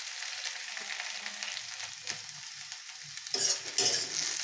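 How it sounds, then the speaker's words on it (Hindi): Okra (bhindi) shallow frying in a pan for bhindi do pyaza gives off a soft, continuous sizzle, broken by occasional stirring scrapes and a louder burst of crackling near the end. "इसे मैं शैलो फ्राई कर रही हूँ"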